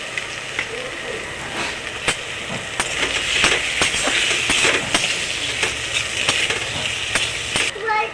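Pumpkin slices and chopped coriander sizzle steadily in a pan for a Bengali kumro bhorta, with a run of sharp clicks and scrapes from stirring over the constant frying hiss.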